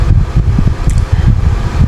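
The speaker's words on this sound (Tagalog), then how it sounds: "Teka lang, patay ko na ito electric fan kasi" An electric fan runs close by, a steady whirring hum with soft low buffeting of moving air that continues without a break, with no voices.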